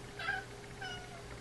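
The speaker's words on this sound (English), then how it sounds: "It's my cat." A pet cat meows twice, short close calls in a quiet indoor room during a seed-bead earring tutorial, with no talking.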